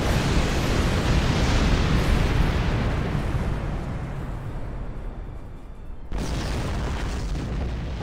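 Missile explosions in Star Trek Online space combat roll out as a loud, continuous wash of booming blasts, dipping slightly before another heavy burst hits; no voices.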